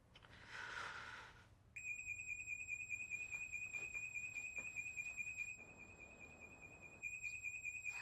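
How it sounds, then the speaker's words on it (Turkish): A house alarm rings with a steady electronic tone, continuous and fairly loud, with a brief harsh burst just before it starts; no one speaks. "Anne bizim evin zili çalıyor. Bizim alarmı. Bizim evin alarmı."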